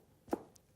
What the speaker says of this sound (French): On coupe en lamelles le plus finement possible.